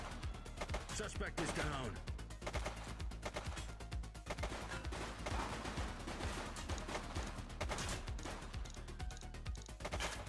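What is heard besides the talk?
gunfire in the video game The Precinct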